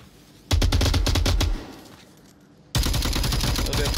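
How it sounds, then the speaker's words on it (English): Two loud bursts of rapid automatic gunfire in the VR shooter Onward during a competitive match, separated by a quieter lull with scattered distant shots. "A little bit of free fire going on."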